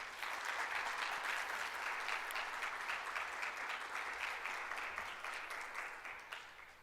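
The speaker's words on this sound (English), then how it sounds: "let's give them a round of applause" An audience applauds volunteers at a governor's event, a dense, steady clapping that goes on for several seconds and fades slightly toward the end.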